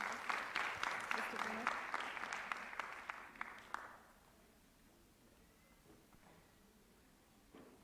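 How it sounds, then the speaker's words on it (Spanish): An audience at a national psychopedagogy congress applauds to welcome a speaker, a steady dense clapping that lasts several seconds, then stops abruptly and leaves a quiet room with faint stray sounds. "Vamos a recibirle con un fuerte voto de aplausos"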